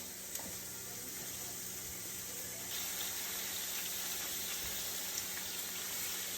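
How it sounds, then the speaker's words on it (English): Six cloves of garlic simmer in a pan for a chicken Alfredo sauce, giving a steady, soft sizzling hiss that stays even and unbroken throughout, with no talking over it. "Six cloves of garlic. And we're gonna let this simmer only for a few moments."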